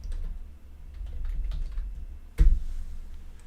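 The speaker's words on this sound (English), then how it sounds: "Just typing to the Bike Terra folks over there." Rapid clicking of a computer keyboard, typed up close in bursts with one sharper knock partway through and a low background hum, no speech.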